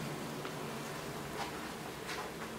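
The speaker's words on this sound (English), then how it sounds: "And there's our bees. Getting ready to enter their new home." Honeybees buzzing in a garage as the swarm gets ready to move into a new hive, a steady, fairly faint hum with soft passing drones over a constant noise floor.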